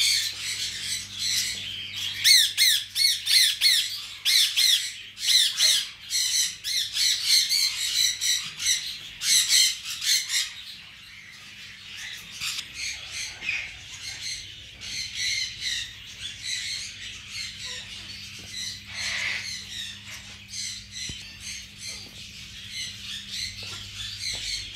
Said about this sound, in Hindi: ये राइट साइड पे छोटे केजेस हैं, इनमें एग्जीबिशन और लव बर्ड